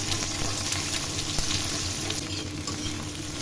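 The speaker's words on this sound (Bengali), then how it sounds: "এবার তেল দিয়ে ডিমগুলো ভেজে নিচ্ছি" Three eggs frying in oil in a wok give a steady, close sizzle that runs without a break, with faint stirring clatter underneath.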